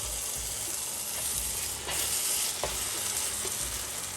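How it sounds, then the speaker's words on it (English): Tomato puree hits a hot pan for chicken tikka masala gravy and gets stirred, giving a steady close sizzle with scraping strokes and soft knocks of the spoon, no talk. "Add 400 grams of tomato puree."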